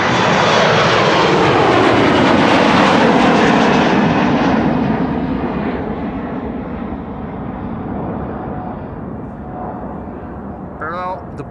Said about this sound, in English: another widebody just now took off via the center runway